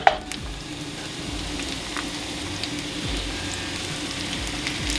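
Meatballs and garlic sizzling in oil in a hot skillet, a steady close crackle and hiss with small pops, starting with a brief clatter as the meatballs go in.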